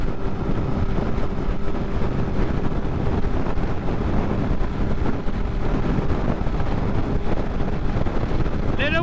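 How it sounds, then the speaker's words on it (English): Heavy wind buffeting the microphone while riding along a highway at night, a constant dense low roar filling the whole stretch with no pauses. "Little windy."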